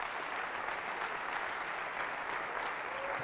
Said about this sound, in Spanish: por favor, un aplauso a lo que es la organización